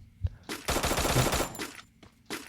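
Automatic gunfire in a battle royale video game, several sustained bursts of rapid shots, loud and close, with short pauses between volleys and a final burst at the end.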